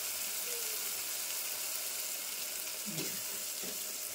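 Tomatoes with chili powder and salt sizzle and fry steadily in a pan over a medium gas flame, a constant bright crackle with a faint stir or scrape near the end.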